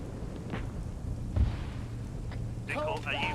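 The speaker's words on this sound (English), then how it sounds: "That's indirect fire." In the video game Arma 3, a single indirect artillery round lands as a dull, distant low boom midway through, and a voice talks briefly afterward.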